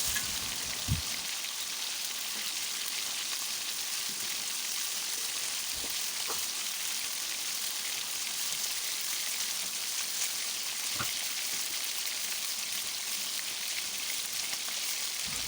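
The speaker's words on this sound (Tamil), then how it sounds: "அதே எண்ணெயில் 2 கைப்பிடி அளவு சின்ன வெங்காயம் உரித்து வச்சுருக்கிறேன். அதையும் போட்டு நல்லா வணக்கிக்கலாம்." Small shallots sauté in oil left from frying, giving a soft, even sizzling hiss with a few faint ticks and pops, fairly quiet throughout and with no voices.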